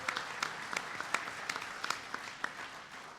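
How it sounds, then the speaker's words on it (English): A round of applause for the US Secretary of Commerce at a tribal nations conference: scattered, moderately quiet clapping from a modest crowd, individual claps standing out in an uneven patter. "So give him a round of applause"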